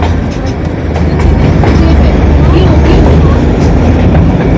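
The Darjeeling Himalayan Railway toy train rolls into Ghum station with a loud, continuous rumble and clatter of wheels on track, filling the whole stretch close up.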